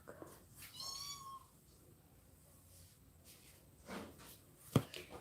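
A cat meows a few times up close, short rising cries, with faint rustling and a sharp tap near the end.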